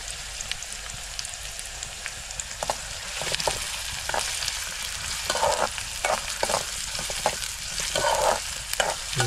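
Fresh cashew nuts sauté in a pan over a continuous frying hiss, broken by repeated scraping and stirring bursts that grow busier toward the end, with no voices.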